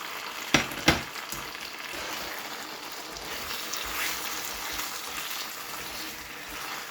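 Mutton karahi fries with spices in a wok, a loud, steady close-up sizzle running throughout, opened by two sharp knocks of a utensil, with no talk.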